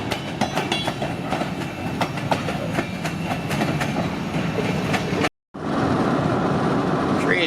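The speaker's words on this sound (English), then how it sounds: "Train is moving now" A train rolls along steadily through Wisconsin with rhythmic clickety-clack of wheels on rails and a loud, continuous rumble, briefly cut off before resuming.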